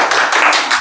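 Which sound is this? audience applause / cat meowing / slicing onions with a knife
audience applause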